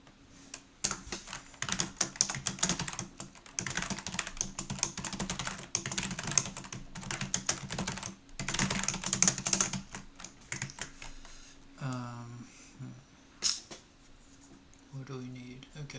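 Rapid, steady typing on a computer keyboard while writing C++ code, dense clatter of keystrokes with a brief pause and a person speaking near the end.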